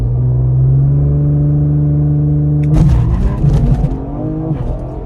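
A Ford Explorer ST with a subframe lockout kit, running E50, holds a steady loud engine drone on the trans brake, then launches hard near the three-second mark into a rising, violent acceleration roar.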